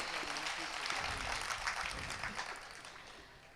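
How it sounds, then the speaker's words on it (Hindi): Audience applause at a Hindi poetry recital of Shringar Ras poems in Jalore, a fairly faint, steady patter of many hands clapping that fades gradually over a few seconds. "एक बार तालियों द्वारा पूरा सदन आदेशित करे।"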